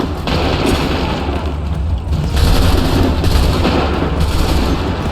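Musket volleys crackle and boom continuously and loudly in Assassin's Creed 3, a dense wall of gunfire from a battle line with no break.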